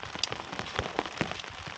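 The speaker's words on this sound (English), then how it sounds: "it has decided to start to rain" Rain begins falling on a tent during a solo wild camp, with scattered close drops tapping and pattering irregularly on the fabric over a soft steady hiss.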